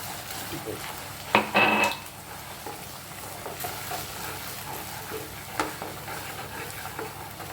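Maida halwa with ghee being stirred in a pan, with a soft continuous sizzle, a couple of louder scraping strokes early on and light clinks, with faint voice in the background.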